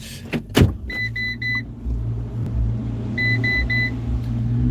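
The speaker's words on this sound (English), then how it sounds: "It's a crappy little pickup truck." A small, beat-up pickup truck drives past with a steady low engine rumble, near and fairly loud, while a few short electronic beeps chirp in two bursts over the noise.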